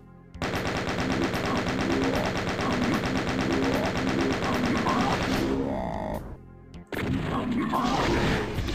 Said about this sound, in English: Alright, I'm gonna chain gun it.